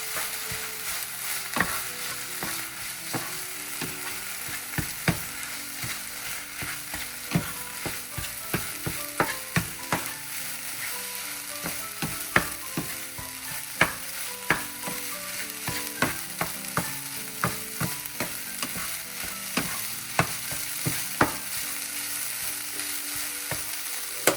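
Egg stirred into frying ramen in a pan, a steady soft sizzle with frequent sharp clicks and scrapes of a utensil against the pan, close and continuous without talk.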